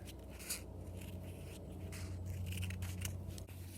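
Scissors snip through paper while a rhino shape is cut out, giving a run of soft, close crisp cuts and rustles.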